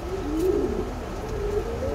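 Racing pigeons coo in a loft, soft low throaty coos rolling in repeated phrases, close by, with faint background rustle.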